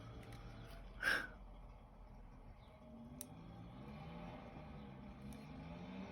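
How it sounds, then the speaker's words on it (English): A steady motor drones outdoors at a distance, a continuous engine hum with a brief louder burst early on. "somebody with the leaf blower or whatever it is going"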